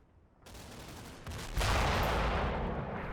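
Churchill 4 tank firing occasional rounds in the Combat Mission: Battle for Normandy wargame, a dense rumbling gunfire bed that steps up sharply into a loud, sustained boom and roar, with no voices.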